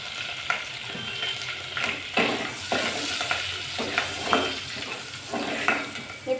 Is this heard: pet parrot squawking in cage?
no